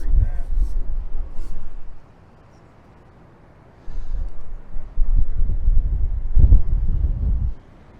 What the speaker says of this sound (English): this wind's pretty bad